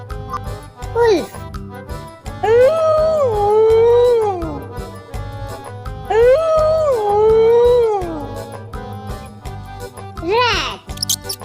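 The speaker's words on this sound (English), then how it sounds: "Wolf." A wolf gives two long, loud, wavering howls, each rising then slowly falling, over soft background music with a voice at the start and end.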